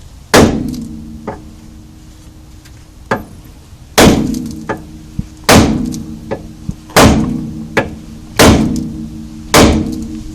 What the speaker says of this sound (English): You whack it right there with a hammer, and you break that tie rod loose.